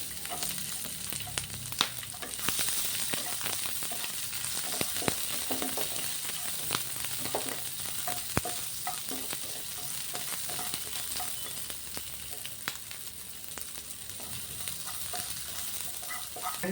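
Chopped garlic and green chili frying in a pan for aval upma, a dense close sizzle with scattered crackles and pops and occasional scraping from stirring, steady throughout with no speech.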